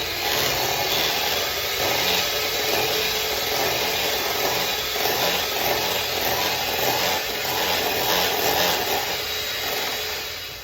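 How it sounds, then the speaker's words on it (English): Egg yolks for a Costa Rican tres leches cake are beaten with an electric mixer, a continuous whirring, scraping buzz that runs steadily and close throughout. "it wants me to beat the egg yolks until they are a pale yellow"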